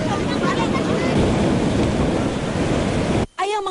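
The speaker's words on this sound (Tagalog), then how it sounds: "Matataas at malalakas pa rin ang hampas ng mga alon sa bayan ng Ternate sa Cavite." Heavy ocean surf pounding the shore at Ternate, Cavite, a steady loud roar of crashing waves with wind buffeting the microphone, broken near the end by a brief dropout and a short burst of voice.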